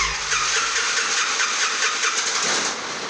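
Aircraft engine running in an engine test cell, a loud, steady broadband roar with a rapid pulsing texture, sustained and close throughout, with no voices.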